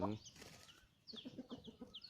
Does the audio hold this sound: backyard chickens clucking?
yes